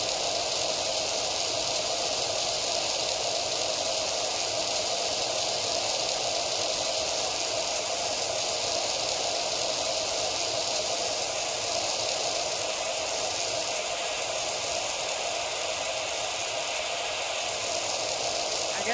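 Pressure washer spraying in Power Wash Simulator, a steady unbroken hiss of water spray running continuously at constant loudness.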